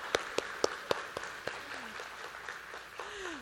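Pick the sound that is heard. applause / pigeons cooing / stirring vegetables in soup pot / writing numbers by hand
applause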